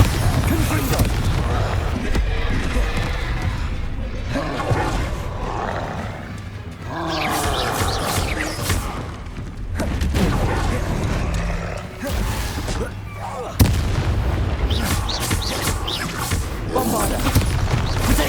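Spell explosions cast in the video game Hogwarts Legacy, loud booming blasts and roaring bursts repeating over dense, continuous game sound effects, with a voice speaking between casts.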